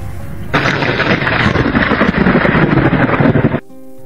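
A loud, sustained rumbling roar of thunder lasting a few seconds, broad and crackling, then cutting off abruptly.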